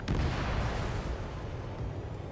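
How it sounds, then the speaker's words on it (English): Missile launch in the jet combat game Ace Combat 7: Skies Unknown, a loud sustained roaring rush with booming low rumble that stays strong throughout, with no voices. "H2, missile launch"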